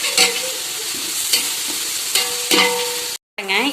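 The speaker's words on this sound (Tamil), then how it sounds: "வெங்காயம் நல்லா பொன்னிறம் வர மாதிரி நல்லா வதக்கினாதான் டேஸ்ட்டாக இருக்கும் பிரியாணி" Onions and green chilies fry in a pan for chicken biryani, with a close, steady sizzle and several distinct spatula scrapes; the sound cuts out briefly near the end, then returns.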